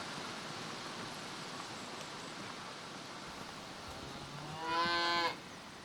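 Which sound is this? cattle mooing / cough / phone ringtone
cattle mooing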